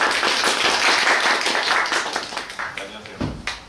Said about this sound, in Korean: 박수로 환영해 주시면 감사합니다.